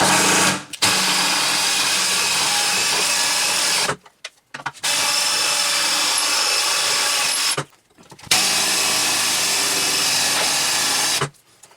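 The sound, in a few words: drilling out screws with old drill bit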